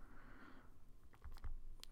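Keys clatter on a computer keyboard as a file is renamed, a short burst of quick, soft taps that are close but quiet, following a brief low hum.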